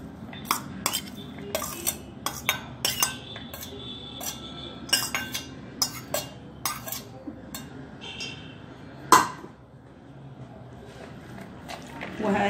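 Chopped peppers stirred in a pan for hawawshi, with frequent close metallic clinks and scrapes of a utensil against the cookware over a steady low sizzle and kitchen rumble.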